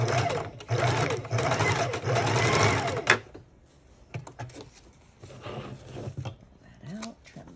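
A sewing machine stitches through junk journal pages in several short, close bursts of rapid whirring, pausing between runs, with handling noises and quiet talk alongside.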